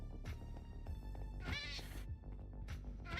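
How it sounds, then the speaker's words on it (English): A cat in the video game Minecraft meows in short bursts over a busy, continuous game soundtrack, with a few higher whining cries standing out near the middle and end. "No, cat's not allowed in the nether."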